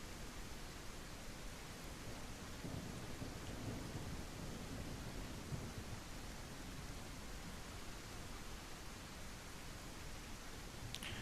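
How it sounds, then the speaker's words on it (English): Steady heavy rain and a low rumble of thunder from a storm in the survival video game Outbreak Island, a constant dense wash of sound filling the whole stretch with no voices. "It must be the beam that causes the storm."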